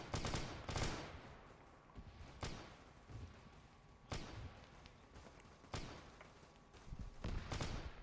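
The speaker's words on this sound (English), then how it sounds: "That what you hear right now is Imperial Guard lasgun fire." Imperial Guard lasgun fire from a Warhammer 40k mod of the video game ARMA III: repeated sharp, loud shots in irregular bursts over a dense, steady battle background.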